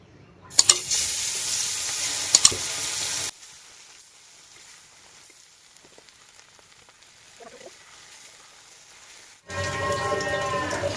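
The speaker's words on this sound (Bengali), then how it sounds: "এবার আমি মাছগুলো ভেজে নিব। তেল গরম হয়ে গেছে, এবার মাছ দিয়ে দিব।" Fish frying in hot mustard oil, a bright sizzling burst that runs for a few seconds with a couple of sharp pops, stops, then returns loudly near the end after a quiet stretch.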